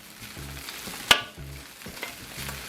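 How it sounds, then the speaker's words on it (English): Bacon and egg fried rice sizzles steadily in a hot pan, with rhythmic scraping strokes of stirring and one sharp clack of a utensil against the pan partway through. "Getting our rice stirred up, fried up."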